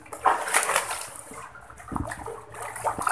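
During the rainy season, water trickles and splashes down beneath a small bridge by farm fields, a close, uneven patter of running water that swells and fades, with no talking.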